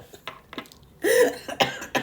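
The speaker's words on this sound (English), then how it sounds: "You're going to make me cough." A sharp cough bursts out near the mic after a few faint clicks and shuffles, followed by a couple of softer breathy coughs or throat sounds.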